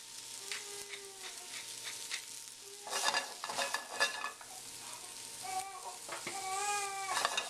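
Mushrooms sautéing in olive oil with salt and cracked black pepper, a steady sizzle in a pan punctuated by stirring and scraping, close and continuous without speech.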